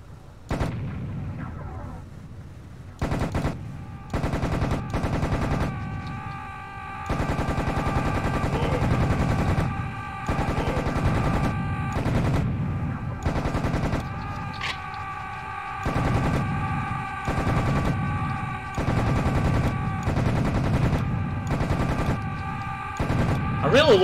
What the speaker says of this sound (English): I really love this weapon. I don't know what it is, but it's just very satisfying to shoot.